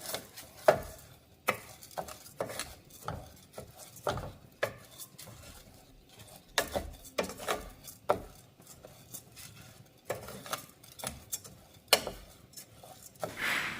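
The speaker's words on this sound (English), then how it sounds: "just keep mixing and coating the rice in the cooking oil and toasting it evenly" Long grain rice is stirred and toasted in cooking oil in a pot for chicken soup, with irregular scraping and knocking of a utensil against the cookware over a faint background sizzle, no talking.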